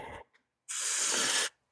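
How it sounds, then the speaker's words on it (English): A short aerosol burst of Maxima chain wax sprayed onto the drive chain of an Arrma Kraton RC car, one steady close hiss lasting under a second after a brief faint noise. "what I'm trying to do is just spray it directly on to the chain"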